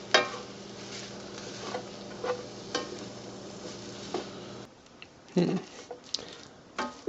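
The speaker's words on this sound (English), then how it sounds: "I'll stir it, actually." Fried rice being stirred in oil in a pan, with a steady low sizzle and scraping clicks of the utensil; it cuts off abruptly and is followed by sparse, scattered knocks.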